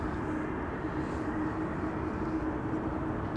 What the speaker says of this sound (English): Elal is also landing